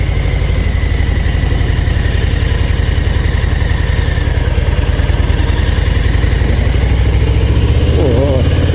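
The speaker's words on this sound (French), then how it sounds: "Je suis fou moi de monter là-haut en moto." A motorcycle engine labors up a mountain road toward a lookout, a loud, close, continuous low thrum with a steady pulsing beat and rumbling exhaust throughout.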